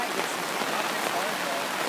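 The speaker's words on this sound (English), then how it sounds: "It rained this much last night." Rain falls on a tent at Waiperous Creek campground on a Friday night: a dense, continuous patter and hiss, close and fairly loud, with no clear breaks.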